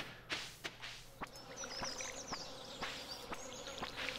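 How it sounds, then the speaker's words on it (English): Bees buzzing around a beehive on a farm in the video game Stardew Valley, a faint, wavering hum with soft clicks and taps beneath it, heard quietly without talk. "Oh boy. Beehive."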